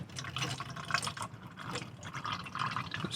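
Brake fluid trickles and drips steadily while the brakes of a budget rally car are bled, a close, continuous wet flow with small splashy bursts and no talk over it.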